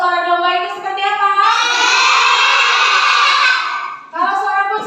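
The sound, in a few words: children imitating a sheep's bleat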